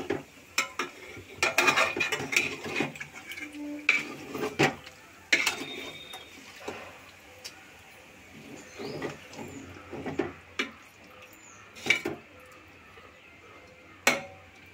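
A spoon scrapes and clanks around a pot of chicken and bean curry with added water, irregular stirring knocks and metallic taps spread over several seconds at moderate loudness.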